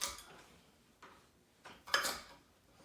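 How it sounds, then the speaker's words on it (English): A spatula scraping and tapping against a pan while flipping roasted sweet potatoes, a few separate metallic clinks and scrapes, with the loudest one near the end, set against a quiet kitchen background. "use a spatula and flip it around so that not one side gets more cooked than the other"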